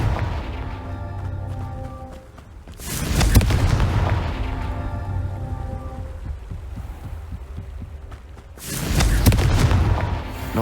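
A Confringo fire spell in the Hogwarts Legacy game bursts into a deep, booming explosion, followed later by a second loud blast, with low rumbling between the two impacts.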